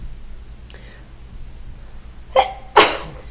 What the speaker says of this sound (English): Sorry, this is unedited, so you're catching my sneeze.